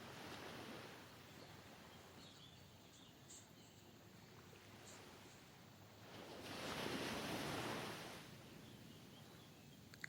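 Sea waves wash onto a sandy shore in a soft, steady hiss, with one fuller swell rising and falling away midway, distant and gentle with light wind.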